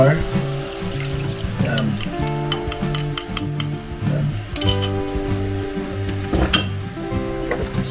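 A spoon clinks and scrapes in a pan as black pepper burger sauce mixed with flour is stirred, with repeated metallic taps over a soft sizzle and a brief spoken word.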